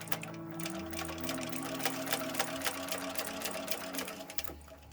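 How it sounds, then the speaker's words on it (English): Sewing machine back stitching a fabric bag with a quarter-inch seam, a steady rapid mechanical whir with fine repeated needle clicks running continuously and close. "Back stitching well in the beginning and the end."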